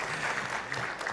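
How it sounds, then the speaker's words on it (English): Audience applause fills a conference hall at a cardiac society scientific congress, a dense, steady patter of clapping that stays moderately distant and even throughout the short stretch. "can you clap for yourselves?"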